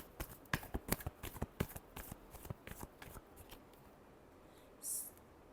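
Tarot cards shuffled by hand in a quick run of sharp riffling snaps and flicks that slow and stop, followed by a brief softer rustle near the end.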